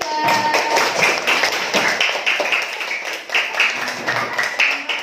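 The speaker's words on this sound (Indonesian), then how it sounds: "Kasih tepuk tangan untuk kelompok 3." A classroom of students claps for a group after a lesson on Surah Al-Asr, a dense, steady patter of many hands lasting throughout, fairly close and loud.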